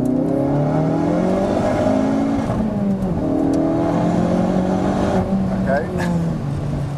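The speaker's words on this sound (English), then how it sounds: "That was mostly wheel spin." A 520bhp Hendy Performance HP500 Ford Focus RS accelerates hard in second gear with its tyres spinning, the engine note rising and falling in loud sweeping harmonic bands over a steady roar, close and continuous.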